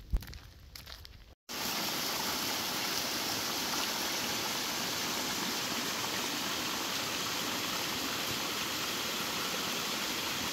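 A small hidden waterfall in a park in Spain pours in a steady, loud, continuous rush of falling water after a brief quieter moment at the start.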